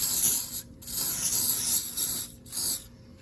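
A clean towel rubs glass cleaner across a gauge from a 1966 Triumph Spitfire during restoration, making close, hissy wiping strokes in three bursts with brief gaps between them.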